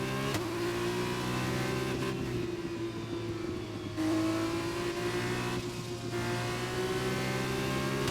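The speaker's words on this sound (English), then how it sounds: "I'm really enjoying the sound of these cars though." Formula 1 race cars in the F1 2021 video game on Xbox Series X, a loud, sustained high-pitched engine whine that shifts pitch as the car upshifts and revs, close and without talk.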